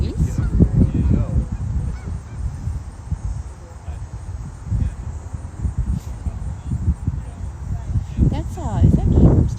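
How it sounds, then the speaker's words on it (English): Geese honk repeatedly nearby during an outdoor walk near a basketball game, overlapping calls with a rough, busy background and occasional rustling. "Hello, geese."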